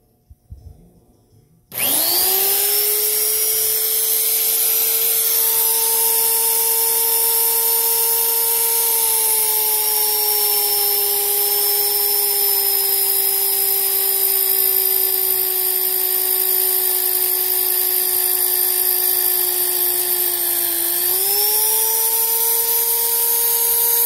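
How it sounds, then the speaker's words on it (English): A power drill bores into a panel for a battery on-off switch on a homemade engine test run stand, starting abruptly and whining at a steady pitch for over twenty seconds, close and loud, with a brief dip in speed near the end. "All right, we're about ready to drill here."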